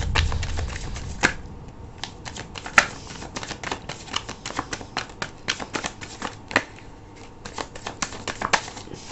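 Tarot cards are shuffled and drawn close up, with a flurry of quick crisp riffling clicks and snaps in irregular bursts over a quiet background, without any voices.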